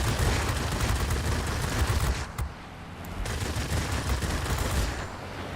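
Aircraft guns firing at an enemy plane in World of Warplanes, a dense rattling stream of rapid shots with engine rumble, briefly easing then resuming.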